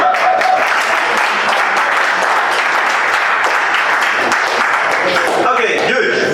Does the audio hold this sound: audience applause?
yes